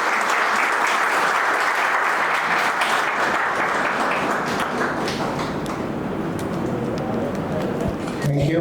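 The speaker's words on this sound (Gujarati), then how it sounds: "તો સવારમાં એકવાર જોરદાર તાળીઓથી" A large audience at a homoeopathy conference for general practitioners claps loudly and steadily, a dense, sustained round of applause that fills the whole stretch without letting up.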